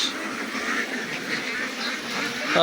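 Khaki Campbell ducks on a duck farm with about 4,500 birds, quacking steadily as a dense flock amid farmyard background noise, with a sharper call rising near the end.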